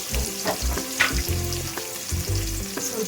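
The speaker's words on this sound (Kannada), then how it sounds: "ಎಣ್ಣೆ ಬಿಸಿಯಾಗಿದೆ. ಸ್ವಲ್ಪ ಈರುಳ್ಳಿ ಹಾಕ್ಕೊಳ್ಳೋಣ. ನಾನು ಒಂದು ಈರುಳ್ಳಿ ತೊಗೊಂಡಿದ್ದೀನಿ. ಫ್ರೈ ಮಾಡ್ಕೊಳ್ಳೋಣ." Onion fries in hot oil for a chicken gravy, making a close, steady sizzle with the scrape and clatter of stirring now and then. No voice is heard.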